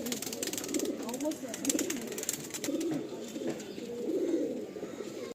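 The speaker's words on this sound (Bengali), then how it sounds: "হ্যাঁ, মালবাই পায়রা আছে, পাঞ্জাব মালবাই আছে।" Punjab Malbai pigeons give repeated low, throaty coos in soft rolling bursts, close and quiet, with faint background chatter and clicks.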